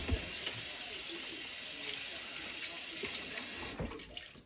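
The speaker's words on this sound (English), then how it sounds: "I'm gonna wash my hands." Tap water runs steadily into a kitchen sink while hands are washed during pasta making. It gives a constant close hiss and splash that stops abruptly near the end, followed by a few faint clunks.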